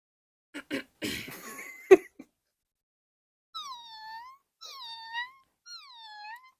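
A person coughs and makes throaty noises, then a voice imitates a cat with three drawn-out, wavering meows separated by short pauses.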